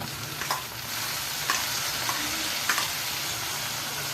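Chopped onion and tomato sautéed in a pan for a spicy egg curry, with a steady sizzle under repeated scraping and tapping as a spoon stirs and mashes them.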